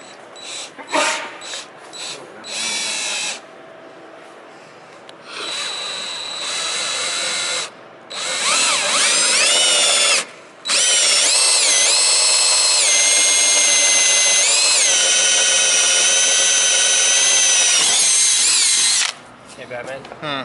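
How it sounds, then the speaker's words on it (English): A power drill whines loudly in repeated bursts, drilling holes for a Thumper table under construction, with long sustained runs and changing pitch, while people talk and a dog seems to bark nearby. "All right, we mark, we drill."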